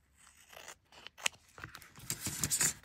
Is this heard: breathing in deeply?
no